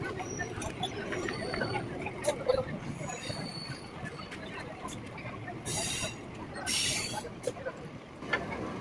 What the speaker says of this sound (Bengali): আমাদের ট্রেন দীঘা স্টেশনে ঢুকছে।